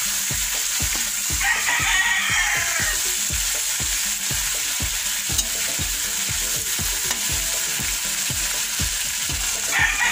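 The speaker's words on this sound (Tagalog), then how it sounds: "So guys, ilaglag na natin yung ating sisig." Sisig in a hot pan, a loud continuous sizzle with rhythmic scraping strokes of a spatula, close up with no speech, and a brief brighter hiss burst near the two-second mark.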